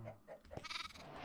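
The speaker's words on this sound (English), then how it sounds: "now if I breed those sheep" A short, nasal sheep bleat from Minecraft rises briefly after some low background noise, close and moderately loud, with no speech.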